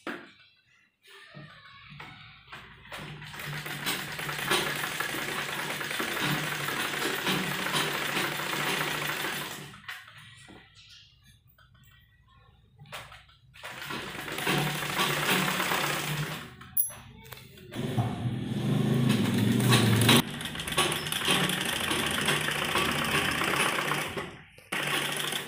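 A sewing machine stitching a baby frock, running in long bursts of rapid mechanical whirring with short pauses between seams, close and fairly loud, with no talking.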